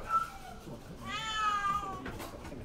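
A cat brought into an animal welfare centre, one of several adult cats and kittens caught by volunteers, lets out two clear, close meows, the second longer and drawn out, over quiet room noise.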